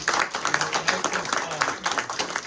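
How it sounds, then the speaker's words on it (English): At a historical society gathering, a room of people gives a short burst of clapping, close and fairly loud, mixed with voices talking over it. "Well, Sean, I really want to give you a big applause, everybody."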